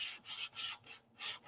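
Four rhythmic strokes of hand sanding over a lightweight filler fillet on a P-47 model, each a soft scratchy swish with short pauses between, close and fairly quiet.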